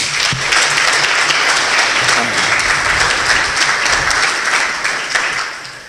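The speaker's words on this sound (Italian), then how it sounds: "che vi prego di ricordare con un applauso" Sustained applause from a conference audience in Soveria Mannelli honouring the memory of a former mayor: dense, steady clapping filling the room, fading slightly near the end, with faint murmurs under it.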